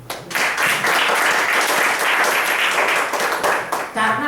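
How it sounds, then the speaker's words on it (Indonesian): Steady audience applause from a crowded room, dense continuous clapping that holds for several seconds before a speaking voice cuts back in at the end. "Tepuk tangan dong."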